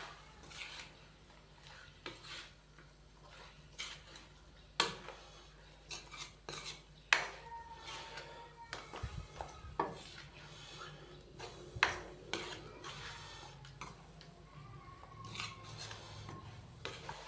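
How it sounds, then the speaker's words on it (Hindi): Onions and chicken being stirred in a pan for masala chicken fry, with repeated metal spoon scrapes and clinks against the pan, close and moderately quiet, in an irregular rhythm. "प्याज डालने के बाद हम इसको अच्छे से मिक्स करेंगे।"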